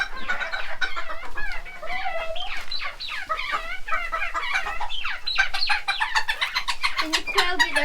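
Several chickens cluck and chatter continuously nearby, a busy mix of overlapping calls and squawks.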